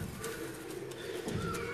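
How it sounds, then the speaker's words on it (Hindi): A pigeon coos nearby in soft, low, throaty rolls, repeating twice against a faint outdoor background, with no speech over it. "आपके सामने ये कबूतर क्या कर रहा है"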